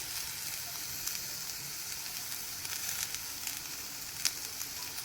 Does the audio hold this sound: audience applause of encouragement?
no